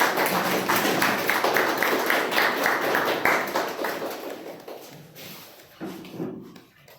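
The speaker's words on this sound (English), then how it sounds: "So a big round of applause" Attendees at a Toastmasters club meeting clap together in a moderate round that holds steady, then thins out and fades, with scattered final claps near the end.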